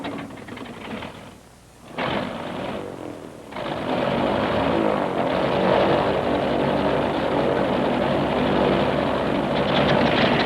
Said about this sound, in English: Let's start with the piston-engined aircraft.